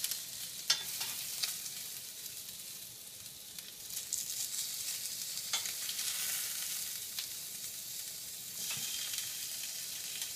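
Meat searing in a hot pan gives a steady, close sizzle and crackle, with a few sharper pops and scrapes scattered through it.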